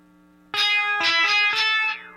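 A guitar riff played through a synthy effect program on a bagpipe-style effects unit, with bright, buzzing sustained notes in several rhythmic attacks after a quiet start; no voices.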